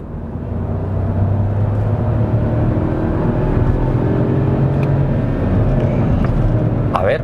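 A Hyundai i20 with a three-cylinder 1000 cc engine accelerates at full throttle, a loud, sustained drone climbing gradually in pitch, heard from the cabin as a voice talks over it.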